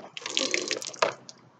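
Water splashes and spills while a toy water gun is being filled, a short burst of wet splattering with a sharp splash near the end, close and moderately loud.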